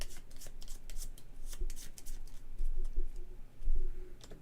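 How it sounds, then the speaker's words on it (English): Shuffling a deck of cards during a tabletop game of Legacy of Yu: crisp, papery riffling bursts come in quick uneven clusters, close and moderately loud, with no talk over them. "I have to shuffle this deck, which means that flood token advances"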